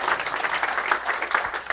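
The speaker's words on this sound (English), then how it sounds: "feel free to applaud or not, I don't know." Audience applause during a conference talk on Python and spreadsheets, brisk dense clapping from a sizable crowd, loud and even for the whole short stretch with no talking.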